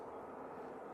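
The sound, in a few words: airplane flying overhead at Manchester Airport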